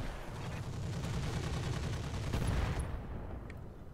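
Sustained, dense automatic gunfire in the Roguepoint video game, a continuous rattling barrage that stays loud for several seconds before thinning out near the end.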